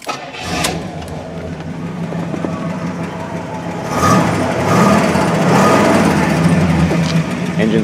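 A 1971 Pontiac Grand Prix V8 engine cranks and catches, then settles into a loud, deep rumble that swells and pulses close by.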